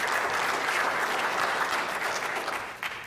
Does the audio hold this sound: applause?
yes